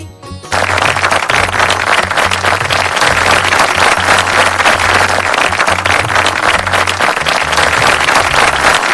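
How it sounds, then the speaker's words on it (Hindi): An audience at an International Women's Day gathering claps loudly and continuously, broad sustained applause from a crowd with a low hum running beneath it. "ताली बजनी चाहिए बहन जी।"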